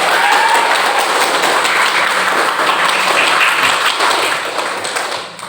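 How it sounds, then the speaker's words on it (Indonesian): A group of students claps together in a classroom at the end of a physics lesson, a steady, dense patter of applause that holds for several seconds before tapering off. "di akhir juga kita rame-rame tepuk tangan untuk kita semua"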